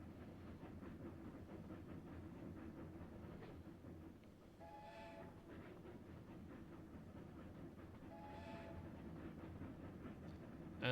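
A train rumbles steadily along in the video game Railroad Corporation 2, a continuous low rolling drone with two brief horn blasts partway through.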